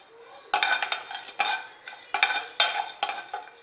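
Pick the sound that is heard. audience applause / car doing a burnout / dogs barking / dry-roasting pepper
dry-roasting pepper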